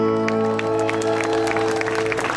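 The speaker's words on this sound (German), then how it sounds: "gebt mal Applaus für den Philipp" Scattered clapping continues steadily over a sustained musical drone, with a crowd applauding a guitarist at a Dorfrocker concert rally in Marktheidenfeld.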